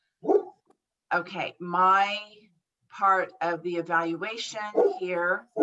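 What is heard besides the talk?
sick dog barking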